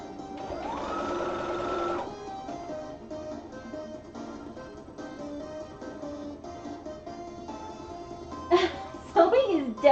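A domestic sewing machine runs in a rapid burst of stitching, then hums and whirs more quietly before some clattering handling noises at the end, with chatter in the room around it.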